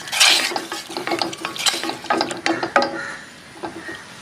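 A spoon scrapes and clatters around a pot of prawn curry, quick irregular scraping strokes close by, loud at first and then easing off, with no voices.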